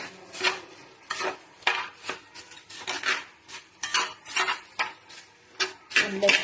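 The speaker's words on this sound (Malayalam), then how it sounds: "എല്ലാ ഭാഗത്തും ശർക്കരപ്പാനി ചെല്ലത്തക്ക രീതിയിൽ ഇളക്കി കൊടുക്കും" A spoon stirring jaggery syrup through beaten rice and roasted gram in a pan, with repeated scraping strokes and clinks against the metal in an uneven rhythm, close and fairly loud, with no talking.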